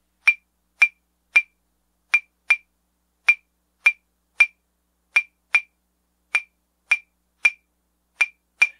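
Rosewood claves are struck alone, giving crisp, dry wooden clicks in a repeating syncopated clave pattern, about fifteen strikes with silence between them.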